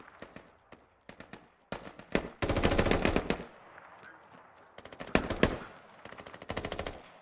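Gunfire in the video game Squad: scattered single shots, then sustained bursts of automatic weapon fire, loud and sharp with short pauses between volleys.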